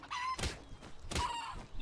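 A chicken clucks in the video game Palworld, short tonal calls mixed with two heavy thudding hits and a busy game background.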